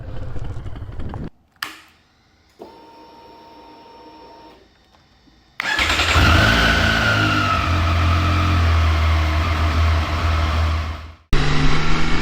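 A Triumph Street Triple motorcycle engine starts up, followed by a steady loud rumble as the bike moves off, with a brief quieter stretch before and a short break near the end.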